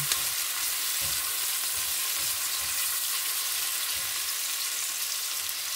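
Tomato, onion and garlic sautéing in a pan, a dense steady sizzle close up with soft stirring knocks now and then, no speech.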